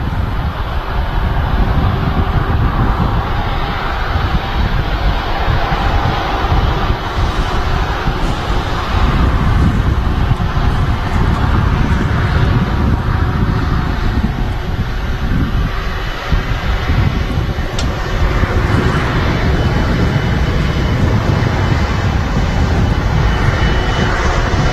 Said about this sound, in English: Something big on the taxi out, I think. Yeah, it's Virgin Atlantic A330 for Orlando.